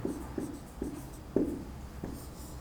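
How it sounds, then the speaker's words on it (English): A pen or marker scratches notes onto a board in a maths lesson on circles, with short, close strokes in quick succession, about half a second apart. "let me write these as remarks here"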